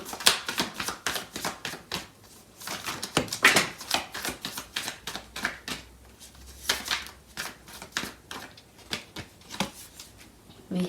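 A tarot deck is shuffled by hand and cards are drawn, with quick riffling flicks and soft snapping card sounds in uneven clusters, close and quiet, with no talk.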